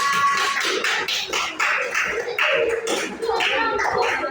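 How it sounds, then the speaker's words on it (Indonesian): A small group of students claps in a classroom after a group presentation, giving a brief, patchy burst of close hand claps with some chatter. "Tepuk tangan untuk sekali."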